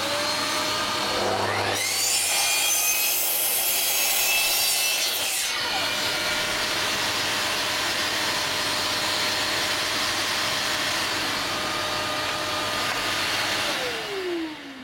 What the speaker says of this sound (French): Petit aspirateur.